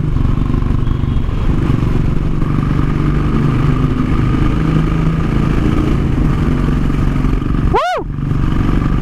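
Royal Enfield motorcycle fitted with an Indori silencer exhaust, its loud raw thumping engine note running steadily near the listener before a brief sharp rev sweeps up late in the clip.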